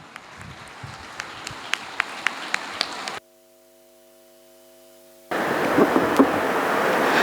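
At a student felicitation ceremony at Canara PU, an audience claps for a rank-holding commerce student: a few scattered claps first, then a short hush with a faint hum, then a loud, dense burst of applause.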